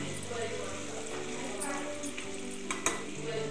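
Goat head curry being stirred in a pan, a continuous soft sizzle of frying oil under a spoon scraping and mixing, with a couple of sharper utensil clinks near the end.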